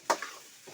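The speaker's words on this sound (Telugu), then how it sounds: "అది గరిటతోటి కలుపుతున్నావు, మంచిగా కలిపొస్తా." A ladle stirs food in a pan with one sharp scrape near the start, followed by softer scraping and a faint sizzle, then another light stir toward the end, close and fairly quiet with no talking.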